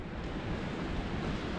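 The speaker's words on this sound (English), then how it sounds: "It's windy out" Wind buffets the microphone outdoors as a steady, loud rushing roar with no break, beside a 150cc GY6 ATV.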